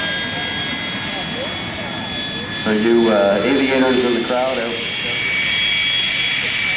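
Aero L-39 jet at an airshow, its engine roaring steadily and loudly throughout as it taxis, with a voice over a public address talking across the top.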